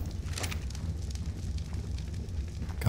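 A fire is lit in the smithy aboard a steam tugboat in the game Ark, giving a steady crackling, roaring rush with a sharp burst at the end and no talk.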